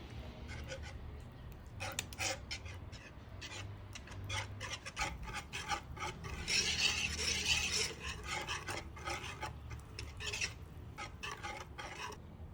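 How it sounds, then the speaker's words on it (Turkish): A whisk beats sugar, baking powder and other ingredients into a smooth batter for yeast-free pizza and poğaça dough, producing a quick, rhythmic scraping and swishing against the bowl that is close and fairly quiet. "Öncelikle bu eklediğimiz malzemeleri pürüzsüz bir kıvama gelene kadar çırpalım."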